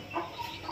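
Chickens at a village farmhouse in farmland give a brief, faint cluck or two within less than a second, with a low outdoor background hum and no voices.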